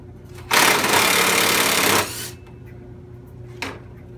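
A power drill backs a screw out of pallet wood on a range hood build, one loud whirring burst of about a second and a half, followed by a brief short click or tap, with no talk.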